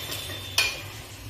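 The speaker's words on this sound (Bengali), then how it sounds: "তো মাছটাকে আমি এভাবে নাড়াচাড়া করব।" Lote fish being stirred in a hot frying pan, a steady low sizzle with a single sharp scrape of the spatula partway through, close and fairly quiet.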